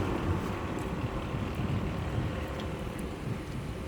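Wind gusts buffet the microphone in a constant low rumble, with steady blustery noise and no clear voices.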